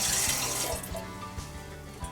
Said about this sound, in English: Throw a little bit of water in it.